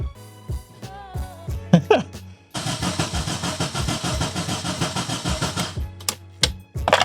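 A BMW E30 engine cranking over on the starter to clear fuel from the gas lines, opening with a few short whirs and clunks before a long, steady rhythmic cranking, close and loud without catching.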